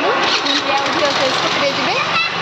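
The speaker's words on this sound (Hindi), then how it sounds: "बाहर मार्केटिंग करने चलते कौन स्टार्ट होनी ये गाड़ी स्टार्ट कर" A motorbike engine cranks and catches into a rough running note while people talk close by over it.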